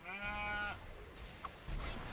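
A sheep in the Dragon Quest Builders 2 video game bleats in a drawn-out, wavering cry during the first half, followed by quieter in-game ambience and a brief blip.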